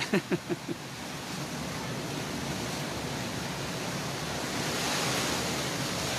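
Ocean surf rolling onto Agate Beach, a broad continuous wash of waves and wind that swells slightly toward the end after a few brief knocks at the start.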